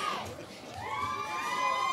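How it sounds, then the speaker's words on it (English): Danish fans at an archery World Cup team match in Antalya cheer and whoop with rising, chant-like shouts, a fairly distant but lively crowd that holds steady throughout. "So the Danish fans cheering on their favorite team here in Antalya."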